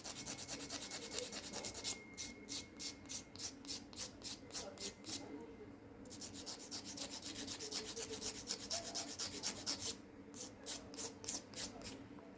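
A small miniature vase for a diorama is sanded by hand in quick rhythmic back-and-forth strokes, faint and close, coming in two bursts with steady scratchy rubbing between.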